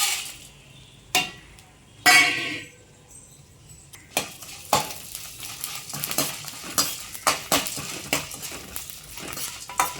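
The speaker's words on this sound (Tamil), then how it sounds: "நம்ம எடுத்து வச்சுருந்த மிளகு சீரகம் வெந்தயம் மிளகாய் இந்த சுக்கு எல்லாமே ஒன்றா சேர்த்து நம்ம இதில் வதக்கிக்கலாம்" Hot oil sizzles steadily as black pepper, cumin, fenugreek, chillies and dry ginger are sautéed, a spoon scraping and clinking against the pan, with a few sharp knocks at the start.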